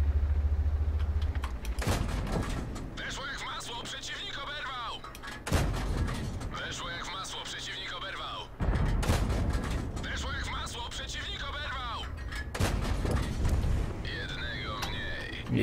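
Heavy tank cannon blasts in a video game boom at regular intervals, each followed by mechanical clanks and creaking reload sounds, with a voice speaking now and then over the noise.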